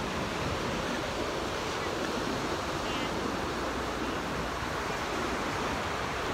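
Ocean surf rolling onto a sandy beach as a continuous, loud wash of noise with wind buffeting the microphone, steady throughout with no distinct breaks.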